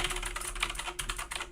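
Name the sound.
typing on a mechanical keyboard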